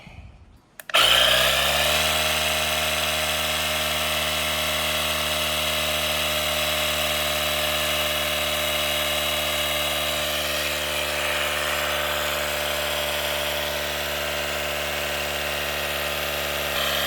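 A portable air compressor runs steadily on a bike tire set to a 50 PSI preset, kicking on after a brief click and holding a loud, even mechanical drone with a strong low hum for the rest of the clip.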